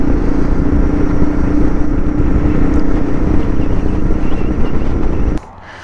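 A Suzuki DR650 motorcycle rides a mountain road in the Rocky Mountains with a loud, steady engine drone mixed with wind rush. The sound runs continuously and cuts off abruptly near the end.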